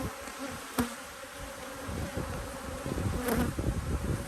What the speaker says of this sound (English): A lot of bees, people, a lot of bees.